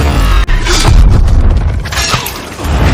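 A landmine explodes in a film with a loud, rumbling blast and shattering debris, dense and booming, fading slightly before another surge of crashing noise.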